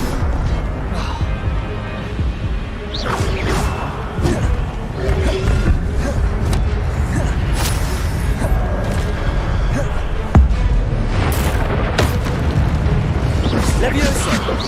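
Repeated fiery blasts of the Incendio spell in Hogwarts Legacy, loud booming bursts recurring every few seconds amid ongoing game effects, with speech running underneath.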